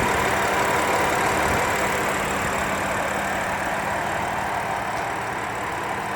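A new BMW M4 idles under an open carbon-fiber-trimmed engine bay, holding a steady, smooth hum at close range, with no talking over it.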